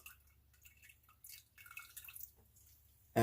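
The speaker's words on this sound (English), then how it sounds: "I want to wring this out." Water drips and splashes from freshly dyed yarn as it is wrung out by hand, a few quiet scattered drips ending in a louder splash.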